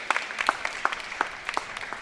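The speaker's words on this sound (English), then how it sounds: "Round of applause." Scattered handclaps from a town hall audience at a school event, a thin round of applause with individual claps distinct, fairly close and moderately loud.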